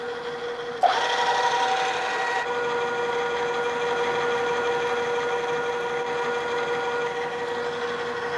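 A center drill cutting the starting hole in a metal workpiece gives a steady, close grinding whine with a faint tonal hum. It begins abruptly after a sharp onset and runs without a break to the end, with no talking.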